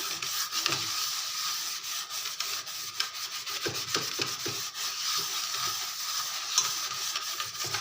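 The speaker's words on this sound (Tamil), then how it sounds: "சாதா பாத்திரம் அந்த மாதிரி தான் நான் தேய்ச்சிக்கிட்டு இருக்கேன்" Steady, rough scraping and scrubbing against a rusty iron kadai continues throughout, with small irregular scratchy bursts and no voices.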